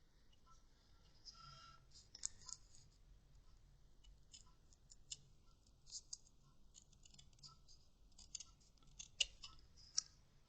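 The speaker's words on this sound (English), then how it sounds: "I'm just going to tidy that up with a pair of scissors." Repeated crisp snips of scissors cutting through material, irregular and close, with small clicks and rustles between cuts in a quiet room.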